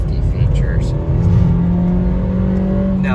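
The engine of a 2023 Nissan Versa S with a five-speed manual gearbox revs loudly and close by from inside the cabin, its pitch climbing and then holding high, with a voice speaking over it.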